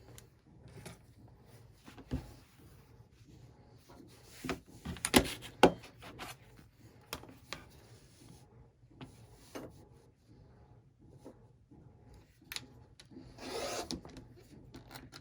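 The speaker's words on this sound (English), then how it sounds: "I'm cutting every 2 inches on my ruler" Fabric is cut along a quilting ruler in a quiet room: short, soft rasping strokes and scrapes with light knocks between them, and a busier cluster of cuts around the middle and near the end.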